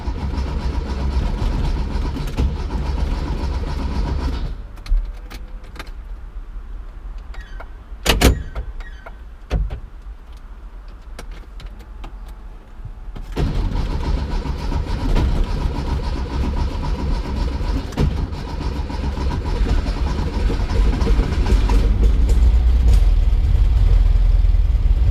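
A Porsche 912 engine cranks and fires into a rough, loud mechanical roar, drops away to near quiet for several seconds, then catches again and settles into a steady, throbbing idle that grows slightly louder toward the end.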